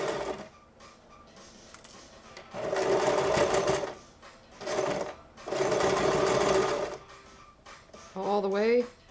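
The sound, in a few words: sewing machine stitching an ear saver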